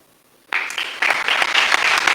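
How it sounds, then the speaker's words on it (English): Applause breaks out abruptly after a moment of quiet at an award presentation in a theatre hall, swelling into steady, dense clapping from a crowd and continuing strongly to the end. "Big applause again for Raycloud"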